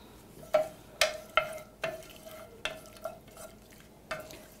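Onions stirred in a pan with warmed cream, a spoon striking the pan in a steady series of ringing metallic taps, each followed by a soft sizzle, close and fairly quiet.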